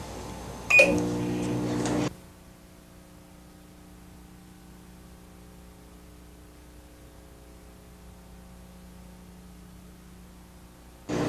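A short burst of beeps and clatter, then a steady low electrical hum of a microwave oven running, ending with another noise burst.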